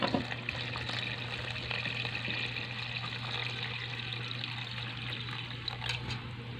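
Water is poured into a pot while cooking maja blanca, with a continuous close trickle and splash for several seconds and no talking.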